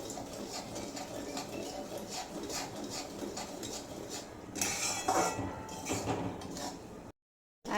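Semolina being roasted and stirred steadily in a pan for maha prasad, a continuous dry scraping and clinking of the spoon against the metal, fairly close and moderately loud, with brief louder scrapes near the end before a sudden cut.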